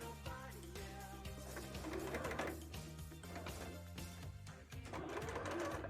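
A sewing machine stitching a bra, heard faintly as a rhythmic mechanical whir under a soft, cooing pigeon-like sound. The whir runs in short uneven bursts as the machine starts and stops.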